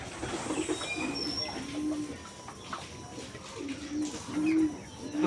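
Pet pigeons coo in soft, repeated low throaty calls, close and steady over a constant background hiss, as the birds are about to be let out.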